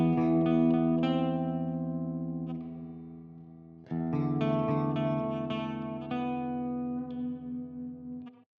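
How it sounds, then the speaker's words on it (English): Electric guitar through a Blackstar AMPED 3 amp with its reverb effect, sustained distorted chords ringing out into a lingering atmospheric wash, struck again partway and decaying, with no talking. "you can change between a dark and a light voicing for the reverb"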